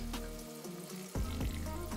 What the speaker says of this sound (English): if we just gently lay it down like that, the water will fill up inside the jug.